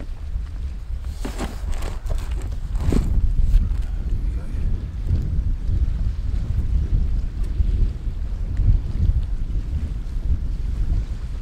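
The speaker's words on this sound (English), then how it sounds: "The wind's blowing all the heat away from the" Wind blowing outdoors at a harbour, a steady low rumble of gusts buffeting the microphone throughout, with a few brief clatters early on and no clear talk.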